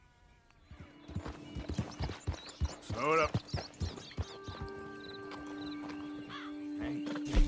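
Horse hooves clopping at a Red Dead Redemption 2 stable, with a possible whinny midway, under steady ambient hum and someone talking.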